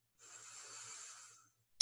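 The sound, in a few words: deep breath in through the nose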